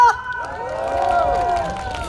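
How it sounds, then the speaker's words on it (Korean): A large concert crowd of thousands at a cherry blossom festival celebration performance in Jinhae roars with cheering and shouting, one sustained swelling wave of voices with whoops rising above it. "자, 함성 한번 질러주세요."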